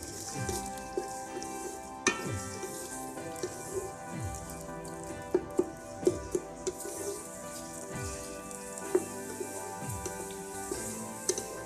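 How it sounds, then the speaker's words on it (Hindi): Onions fry in a pan until light brown for a Pakistani aloo gobi gosht, giving a steady close sizzle with occasional sharp clinks and scrapes from stirring, and no talking. "प्याज को हम लाइट सा ब्राउन कर लेंगे"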